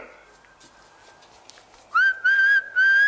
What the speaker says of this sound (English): I can whistle. Well, whistle me a tune then.